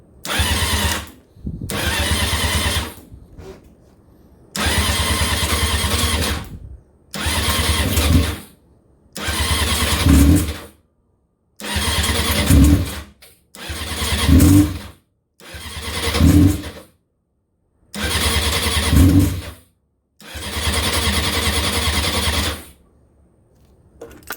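A Honda CBR600F4i motorcycle engine, partly through a teardown, cranks over and over in about nine bursts of one to two seconds each, separated by short pauses, and never catches. The starter whirs close and loud.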